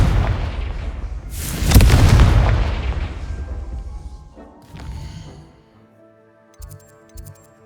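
A Confringo spell explosion in the fantasy game Hogwarts Legacy: a sudden loud fiery burst with a deep boom that rolls and fades over a few seconds, followed by quieter magical chimes and soft thuds.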